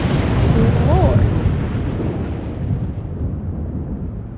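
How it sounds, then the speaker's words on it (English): A rolling thunderclap from a storm in The Sims 4 booms loudly at first, then rumbles and fades away, with a brief tonal game sound over the start. "I do not like thunderstorms. I'm just as scared as the Sims."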